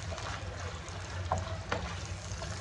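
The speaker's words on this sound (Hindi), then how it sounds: "मीडियम फ्लेम पर इसे तेल के साथ आप अच्छे से मिक्स करेंगे" Minced keema fries in oil over a medium flame, a soft steady sizzle with a couple of faint clinks and scrapes from stirring, quiet and close, with no talking.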